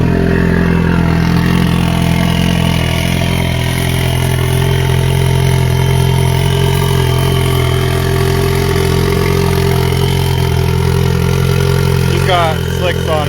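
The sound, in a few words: Polaris Pro R UTV engine starting and idling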